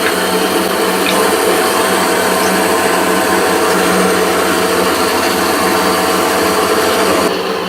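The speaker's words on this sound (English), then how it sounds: "So we'll trim that off the top with the bandsaw" A bandsaw trimming the top off a cast resin pen blank containing coffee, a loud steady whining roar running unbroken through the whole stretch.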